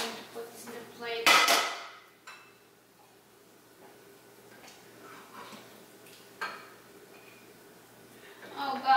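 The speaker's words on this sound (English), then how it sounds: "So I'm going to put this in the plate." Cooked chicken and broccoli being served onto a plate in a home kitchen, with a sharp clatter of dishes and cutlery early on followed by quieter scattered clinks and scrapes, some talk alongside.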